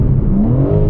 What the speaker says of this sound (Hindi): देखो अभी क्रैकल्स क्रैक हो रहे हैं, देखो इंजन कितना फ्री रेव करता है